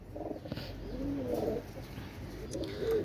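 Pigeons, including Pakistani Rampuri young, give soft rolling coos close by, several low warbling calls in a row over quiet background noise.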